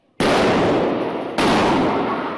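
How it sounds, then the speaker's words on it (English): Two loud, sharp gunshots crack through a Sunday church service in Texas, each a sudden blast followed by a long ringing decay, about a second apart. "The gunshot sparked panic in the pews"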